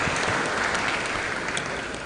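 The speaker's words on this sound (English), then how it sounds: "Please, a round of applause for her." A tech conference crowd applauds, a dense, continuous burst of clapping filling the room at steady loudness from start to finish.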